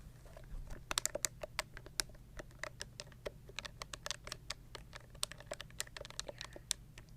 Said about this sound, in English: It's a calculator.